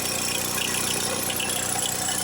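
A PT Cruiser engine idles with a burnt-out exhaust valve, a close steady hum overlaid by a constant fast ticking rattle and faint squeal, heard alone without talk.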